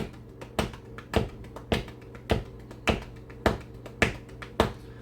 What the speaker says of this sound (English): I'm tapping 16th notes with my hands